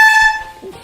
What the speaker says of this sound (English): What you're gonna do is get one of these air horns